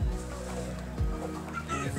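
Chickens clucking at a market poultry stall, with repeated low clucks heard close by through a steady background murmur of voices.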